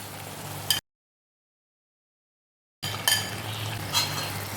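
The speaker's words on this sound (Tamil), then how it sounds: "சிக்கனை சேர்த்து நல்லா கிளறி விடுங்க." Marinated chicken being stirred into a sizzling onion-tomato masala for chicken kulambu: a steady frying hiss with spoon scraping, broken by a two-second silent gap before the stirring resumes.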